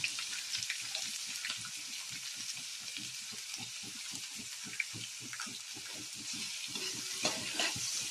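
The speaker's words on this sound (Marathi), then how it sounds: "आता कांदा टाकेल." Onion sizzling in hot oil in a pan while making homemade Maggi sevaiyan, a steady crackling fry with soft stirring taps throughout, close and alone.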